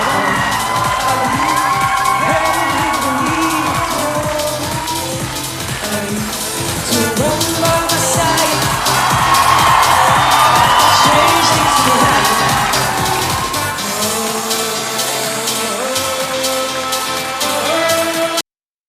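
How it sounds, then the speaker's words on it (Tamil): A crowd of thousands claps and cheers loudly and continuously, with shouts and whoops rising over sustained noise that swells midway before cutting off. "கூடியிருந்த பல்லாயிரக்கணக்கான மக்கள் கைத்தட்டி ரசித்தனர்"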